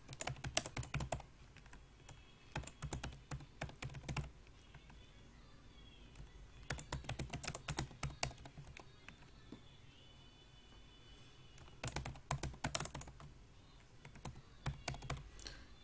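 Quiet, close computer keyboard typing comes in several quick bursts of clicky keystrokes separated by pauses as student names are entered into an Excel spreadsheet, with no voices over it.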